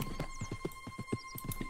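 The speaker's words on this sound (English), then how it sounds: "I just have to get that random horse out of here." A horse in the video game Red Dead Redemption 2 trots with quick, steady clip-clop hoofbeats, evenly spaced and moderately close, over a faint steady background tone.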